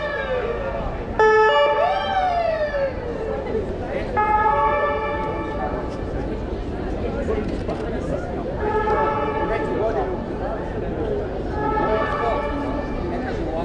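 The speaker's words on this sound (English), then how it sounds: "sirens are so loud. This is one of the most iconic sounds of Vienna." Loud wailing emergency vehicle sirens in Vienna rise and fall repeatedly, with horn-like tones and street noise around them.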